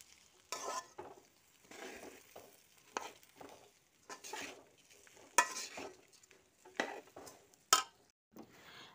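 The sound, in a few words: frying and stirring for yakhni pulao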